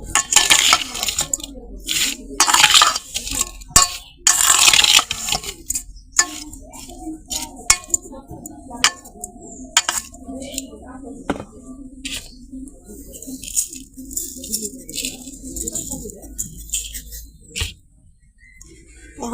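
Raw mango pieces stirred with sugar in a bowl, irregular clicks, taps and scraping bursts of a utensil against the bowl, loudest early then sparser, with no talk.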